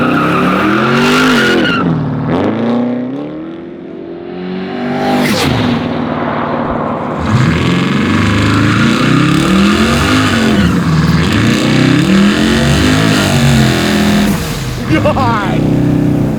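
A 1,600 hp twin-turbo Chevelle restomod accelerates hard with its tires spinning. The engine revs loudly and rises and falls in pitch, heard close from inside the car, with tire squeal and people's voices mixed in.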